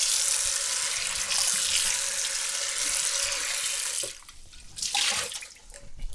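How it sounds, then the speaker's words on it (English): Hot tap water runs hard over a cast iron pan being rinsed, a bright steady splashing rush that breaks off near the end into brief drips and a short final burst. "give it a quick rinse in really hot water"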